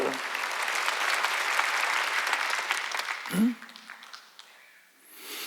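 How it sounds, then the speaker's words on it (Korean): Dense congregational applause fills a Wednesday worship service at a Korean church, holding steady for about three seconds before breaking off abruptly as a voice cuts in and a few scattered claps trail away. "박수 치라 이게"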